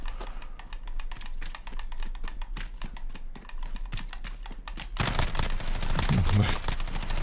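Automatic weapon fire in Call of Duty, with no attachments on the gun: a steady run of rapid, close shots that gives way to a denser, louder burst of noisy fire near the end.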